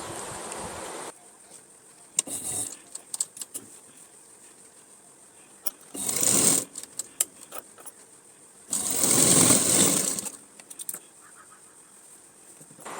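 A sewing machine stitches a young girl's dress in short bursts of rapid, buzzing needle clatter separated by quiet pauses, loud and close, with no one talking.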